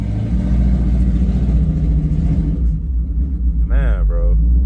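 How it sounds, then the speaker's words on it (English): A car engine rumbles low and steady from inside a 3V Ford Mustang on a new wheel setup, with a short burst of voice near the end. "Now, I guess we're about to test drive the car."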